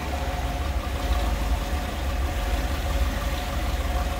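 A 1959 Ford Thunderbird engine idles steadily nearby, a low continuous rumble with a faint rhythmic pulse and no other sounds.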